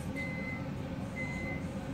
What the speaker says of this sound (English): microwaves beeping there